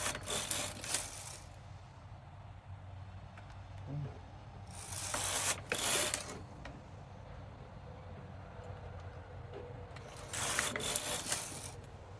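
A knitting machine carriage is pushed across the needle bed to knit a row of a Christmas stocking, making three bursts of rattling, ratcheting mechanical clatter with quiet gaps between.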